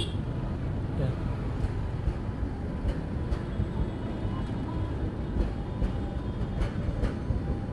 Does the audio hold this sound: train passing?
yes